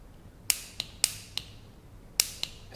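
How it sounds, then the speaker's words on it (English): A handheld piezo igniter clicks on a camping stove, making about six sharp, close snapping clicks at irregular intervals with quiet gaps between them. "It also does come with one of these little handheld little piezo igniters, which are not my favorite thing in the world, but they do work."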